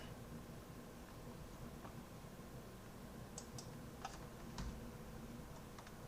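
Keys tapped on a computer keyboard while entering a device address during a Syncthing setup on Ubuntu 16.04, giving a few faint, scattered clicks over steady background hiss.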